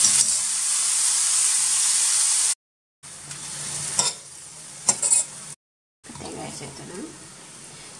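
A bunch of coriander leaves sautés with roasted urad dal in a pan, a bright sizzling hiss up front, then softer frying broken by stirring knocks and brief gaps of silence, close by.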